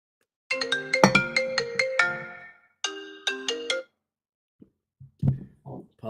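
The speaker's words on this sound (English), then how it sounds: "Apologies for the phone call." A phone ringtone plays a bright melodic pattern of rapid tones, pausing briefly before a second shorter phrase, loud and close with no talking over it, followed by a few soft knocks or clicks.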